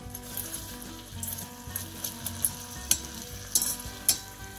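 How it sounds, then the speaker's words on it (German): Finely chopped onion and lemon zest sweating in butter in a pan, a low steady sizzle with occasional sharp clinks of a utensil against the pan. "Nun geben wir unsere klein gehackte Zwiebel dazu und den Zitronenabrieb. So, und schwitzen das Ganze schön an."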